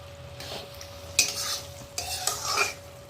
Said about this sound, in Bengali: এখন আবার কষানো হবে এভাবেই ঢেকে ঢেকে কষিয়ে কষাতে হবে মাংসটা